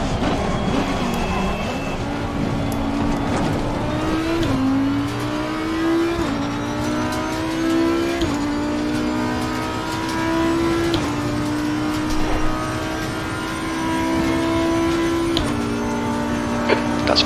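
Porsche race car in Assetto Corsa Competizione, its engine droning steadily and climbing through gears with sharp shift drops, loud and continuous throughout.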